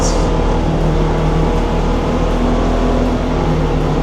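A 2027 Polaris Xpedition side-by-side engine held at about 5,000 RPM on a street drive in Arizona, a loud, steady droning hum with low harmonic layers that runs without a break, no talking over it.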